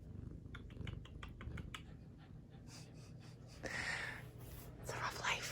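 A sleepy cat purrs in a low rhythmic rumble close by, while soft whispered talk and breathy sounds come and go over it.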